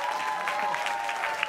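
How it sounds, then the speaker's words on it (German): An audience at a live concert claps in a steady, fairly distant patter of applause under a sustained musical tone. "Mal die Hände klatschen"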